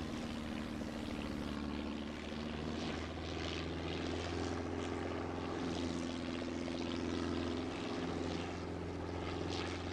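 A helicopter sets down for repairs in the military video game ARMA 3, its rotor and engine droning in a steady, fairly loud whir with a pulsing rotor chop running unbroken through the whole stretch.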